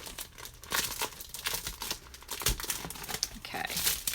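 Thin new foil paper packaging crinkling and peeling in close, irregular bursts of crackle and rustle, loud and near with no talking over it.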